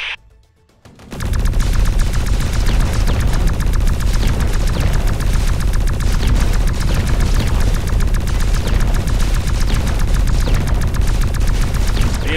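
Dense, continuous gunfire from a Humvee team fighting alien invaders in the video game X-Morph Defense, loud rapid bursts and booms layered thick after a brief quiet opening.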